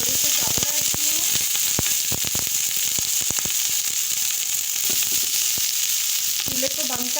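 Rice hits a hot pan for chicken biryani and sizzles steadily, loud and close, with sharp clinks of a spoon scraping and stirring scattered through the frying hiss.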